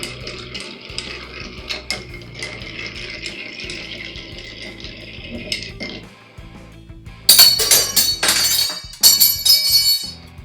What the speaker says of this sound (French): avec une cuillère à mélange, on va faire tourner les glaçons pour bien refroidir le mélange